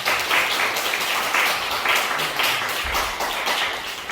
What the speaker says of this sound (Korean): 우리 최경민 선교사님을 박수로 환영하겠습니다